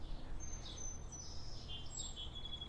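Birds singing outdoors: faint high chirps and short tweets at a distance over a steady low background hum, with no talk.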